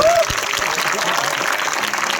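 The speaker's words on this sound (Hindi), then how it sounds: "संजय जी के 2 लाख के लिए तालियां बजाइए" Audience clapping at a celebration event, a continuous moderate patter of many hands filling the whole short stretch, with some talk mixed in.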